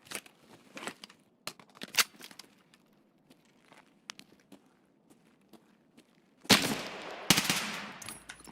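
Gunfire in an online shooter game: scattered sharp shots crackle across the first six seconds, then a louder, denser burst of firing fills the last two seconds.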